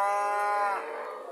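A dairy cow of an improved breed lows once on a farm, a long, loud, close moo with no talk.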